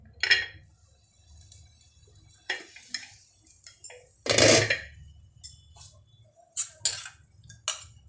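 A lid set onto a cooking pan while making uttapam and idli, one solid clanking knock in the middle among lighter scattered clinks and taps, close by with no voices.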